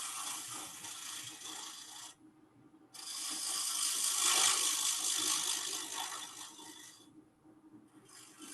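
A gouge trims a spinning wooden shot goblet on a lathe, a steady rasping, hissing scrape in long passes with brief gaps between cuts, close and fairly loud, no talking.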